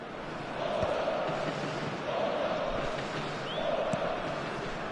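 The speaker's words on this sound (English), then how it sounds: "it's applause all round us here" Football stadium crowd applauding during a match, a broad steady wash of clapping and murmur heard from a distance, quiet and continuous with gentle swells.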